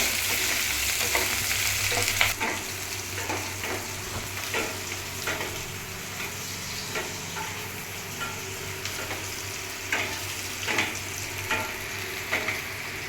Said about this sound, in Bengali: পেঁয়াজগুলো লাল লাল করে ভাজবো